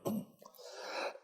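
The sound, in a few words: cough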